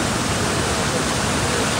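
The strong current of the Yom River in Sukhothai rushes in a dense, unbroken roar, loud and close, with no pauses or distinct splashes.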